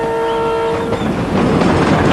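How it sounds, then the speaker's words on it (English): A train on a rough African railway track begins to move, a sustained horn tone giving way to loud, continuous rumbling and clattering of wheels and wagons, close by with no voices. "the train slowly started to move"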